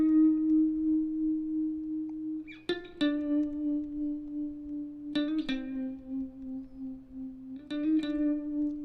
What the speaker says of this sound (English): There's our drone